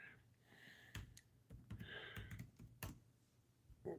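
Irregular bursts of typing on a computer keyboard, fairly close, with a few louder key strikes and soft breathing in a quiet room.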